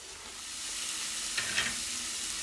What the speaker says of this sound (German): Die Pfanne ist schon heiß und lassen wir die schon langsam brutzeln